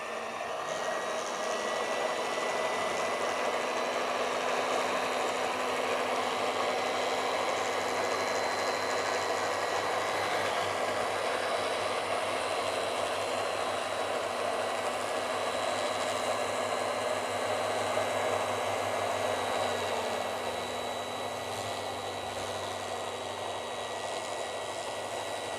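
An industrial fabric cutting machine runs continuously while a marker is cut, giving a steady, loud motor whine with a constant buzzing drone and a faint high tone and no break.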